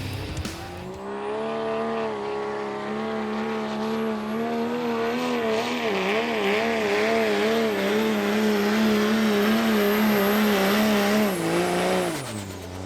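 A 6.8 Cummins diesel truck engine, reported as damaged, roars continuously under load in a sled pull, a loud sustained drone with wavering pitch and a high whine, holding for about eleven seconds before cutting off.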